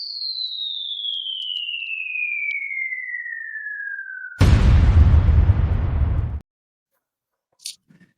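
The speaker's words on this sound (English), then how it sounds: "For those of you who are only on audio, we have a little explosion with a truth bomb." A cartoon bomb sound effect for a truth bomb: a long falling whistle, then a loud, close explosion roar that cuts off sharply, followed by a brief faint tail.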